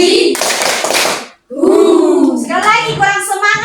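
Classroom of children clapping hands together in a short counted rhythm, bursts of claps separated by a brief pause, close and loud, with children's voices mixed in.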